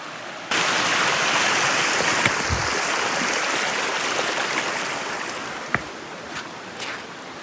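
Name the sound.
flowing river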